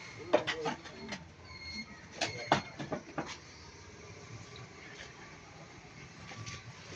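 A peacock at a temple closes its fanned tail feathers, making a quick series of dry, rattling rustles up close over about three seconds before it fades into quieter background noise.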